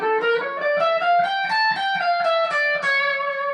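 A guitar runs through the A Phrygian dominant scale one note at a time in an even, quick rhythm, each plucked tone clear and close, with a faint dirty edge on the sound.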